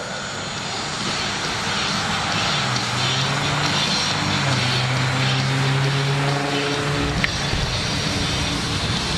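Jet dragsters at an IHRA drag racing event roar continuously and loudly, a broad jet-engine rush holding steady over several seconds with a rising droning tone partway through.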